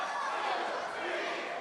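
A wrestling crowd at an ECPW event chants in unison along with heavy chops in the corner, a dense, steady roar of many voices close and continuous throughout.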